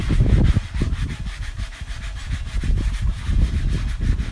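Scrubbing old seasoning off a griddle, a gritty back-and-forth rasp in uneven strokes, close and moderately loud, with no talking.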